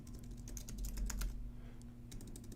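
Quick quiet clicking of a computer keyboard, a short flurry of keystrokes, a pause, then a few more taps close by over faint hum.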